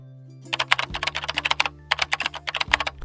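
Quick, close keystrokes patter on a computer keyboard while HTML code is typed into Visual Studio Code, coming in two brisk runs of clicks with a brief pause between them.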